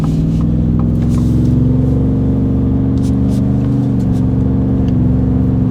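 A five-litre car engine fitted with a single exhaust and resonator accelerates steadily, a deep, loud, continuous drone that rises gently in pitch, heard up close with nobody talking.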